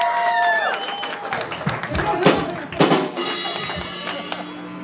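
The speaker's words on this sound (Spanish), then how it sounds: "¡Un aplauso para Paco, cabrones!" A crowd at a punk or metal gig claps and shouts for a band member as a ringing guitar chord fades out, with loud irregular claps and yells and a few sharp hits over the noise.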